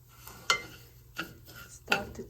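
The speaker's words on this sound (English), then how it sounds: "I'm going to add the pistachio paste and mix like one tablespoon of pistachio" A spoon mixes pistachio paste in a bowl, with three distinct clinks and scrapes spaced about a second apart, close and alone without talk.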